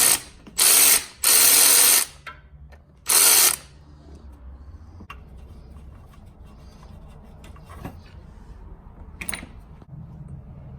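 A ratchet wrench loosens 10 mm nuts on the AC lines of a 2006-2011 Honda Civic 1.8L, giving three short bursts of rapid clicking up close, followed by quieter clinks and faint tool handling.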